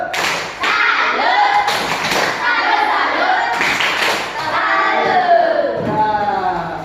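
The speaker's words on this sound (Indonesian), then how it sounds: "Tepuk tangan. Tepuk tangan dulu." Pupils in a classroom clap in rhythmic patterned bursts with thumps, mixed with children's voices chanting along, loud and close.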